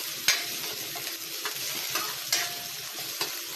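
Onion and garlic sauté in a pan with a steady, close sizzle, punctuated by a few sharp metallic taps and scrapes of a utensil stirring them, and no talking over it.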